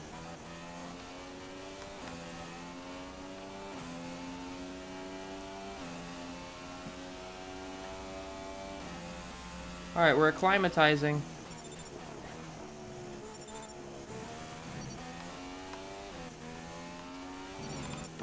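A Formula 1 race car in the F1 2016 video game, its engine revving and shifting up and down in smooth gear changes, with a brief burst of tyre squeal midway, under a person talking.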